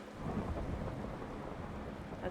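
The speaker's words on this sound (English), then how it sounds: "That's a thunder boomer." Thunder during a rainstorm in the Minecraft video game: a low, steady rumble with rain hiss throughout, fairly quiet and with no talk.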